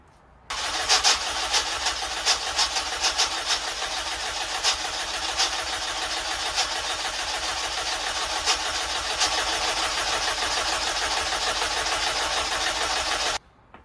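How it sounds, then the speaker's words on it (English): A Honda Civic Type R EP3 engine cranks over on its starter with the coil packs removed, a steady, loud mechanical whirring that runs unbroken for about thirteen seconds without firing, then cuts off abruptly. "I'm going to swing it over without the coil packs, so the oil can just get around the engine"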